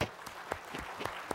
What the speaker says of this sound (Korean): 크신 하나님께 박수를 영드리겠습니다.